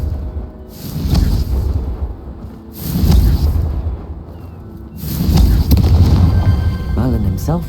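Repeated booming blasts from the Confringo fire spell in Hogwarts Legacy, three loud bursts about every two seconds, each rolling into a rumbling tail over game ambience.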